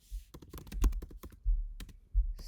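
Keys on a computer keyboard clack in quick, uneven bursts while someone writes Java code, close and fairly quiet, with brief pauses between clusters of taps and a few heavier thumps.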